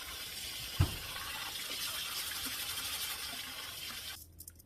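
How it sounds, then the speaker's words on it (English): Tap water pours and splashes into a sink while rice is rinsed under it, with a knock near the start, then the water shuts off. "wash the rice until the water is clear,"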